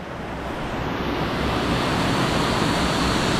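A steady, loud rush of falling water roars continuously, broad and unbroken, with no voices.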